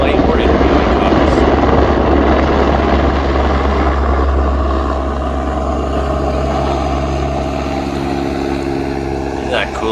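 An Airbus A-Star light helicopter flies past, its steady rotor and engine drone loud and continuous for the whole stretch, easing slightly toward the end.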